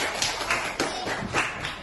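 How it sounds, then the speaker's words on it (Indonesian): Schoolchildren in a classroom clap for their classmates, a brief ragged burst of many hands close by with no talk over it. "Coba berikan tepuk tangan untuk teman-teman kalian"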